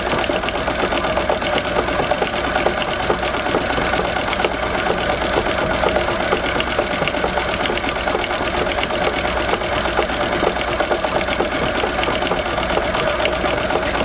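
A Singer 201-3 sewing machine in a treadle stitches a large 100 by 80 quilt in free-motion swirls, a continuous, even, rapid mechanical whirring and clatter, loud and close with no talking.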